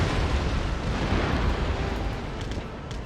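Deep, continuous booming from sailing warships exchanging cannon broadsides in Empire: Total War, as a British fleet battles at sea; heavy overlapping rumbles blur into one sustained roar with no gaps.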